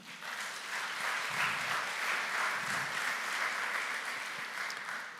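Audience applause for Kingston Freeport Terminal at an investment conference in Jamaica, an even, moderately distant wash of clapping from a large hall that holds steady throughout.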